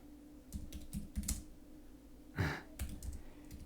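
Slow, hesitant typing on a computer keyboard, a few scattered key clicks in small bursts separated by pauses, close and quiet.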